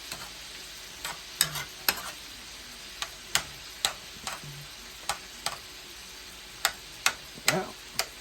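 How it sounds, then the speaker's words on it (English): Shrimp fry in a pan with a faint, steady sizzle, punctuated by a dozen or so sharp utensil clicks against the pan as they are stirred. "Our shrimp is doing good cooking. All of it's getting pink."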